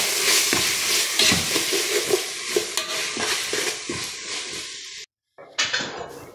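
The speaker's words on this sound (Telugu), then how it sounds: "ఇది టమాటా వేసాను. చూడండి, ఇది బాగా మెత్తగా వేగాల." Tomatoes frying with ginger paste in a pan for chicken fish-style curry, loud steady sizzle broken by repeated stirring scrapes and clanks, with a brief silent gap near the end before the frying resumes.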